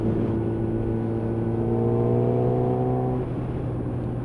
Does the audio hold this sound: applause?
no